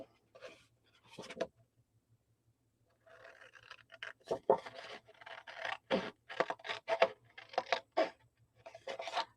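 Scissors cutting paper by hand for a folio project, heard as a series of short crisp snips and scratchy slices in irregular bursts, close and fairly quiet against a silent background.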